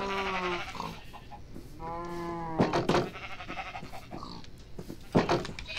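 Several Minecraft sheep bleat in a TekTopia village as the butcher kills them, with wavering nasal calls rising and falling one after another, mixed with short hits and thumps, fairly close and with no talk.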